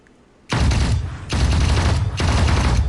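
Sustained bursts of automatic gunfire from a rifle in a first-person shooter game, three loud dense volleys with short breaks between them, close and dominant with no talk.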